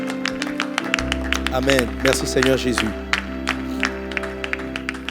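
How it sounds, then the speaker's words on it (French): A church congregation applauds and cheers after a sermon, scattered clapping and crowd noise rising under a preacher's amplified voice with a sustained organ or keyboard tone beneath. "Une bonne acclamation encore pour ce champion de Dieu."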